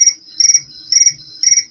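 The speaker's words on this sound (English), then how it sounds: "That's my text alert." A phone text alert playing a cricket chirp tone: three bright, pulsing chirp bursts in a steady rhythm, loud and close, with nothing else around them.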